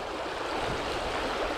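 Fast-flowing water in a trout stream rushes steadily and loudly close by, a constant broadband churn with no voices.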